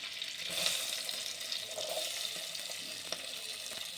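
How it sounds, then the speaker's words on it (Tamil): Curry leaves and onion frying in hot oil, a soft continuous sizzle with faint stirring sounds and a light clink near the end, quiet and without any voices. "கறிவேப்பிலையை போட்டு வெங்காயத்தை போட்டுக்கணும்."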